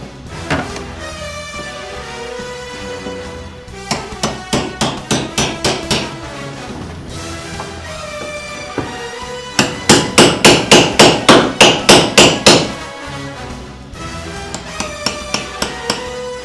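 Old floorboards being prised up and pulled out one by one, heard as bursts of sharp, rapid knocking strikes in quick runs, with quieter scraping and creaking between them, close and loud with no talking.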